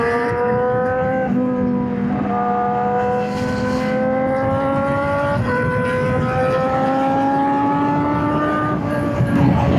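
A Honda CBR1000RR-R Fireblade SP ridden hard at speed: a loud, close engine whine climbs steadily through the revs, with brief drops at gear changes and wind rush underneath.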